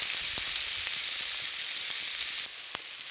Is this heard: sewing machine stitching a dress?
no